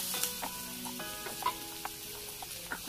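Ingredients are stirred into a sizzling oil tempering for a Maharashtrian spring onion bhaji, with a constant close frying hiss broken by spatula scrapes and light clinks against the pan.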